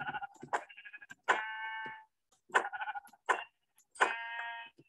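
Blocky Minecraft sheep bleat several times in a row, each call a loud, wavering tone with short gaps in between, heard up close and with no one speaking.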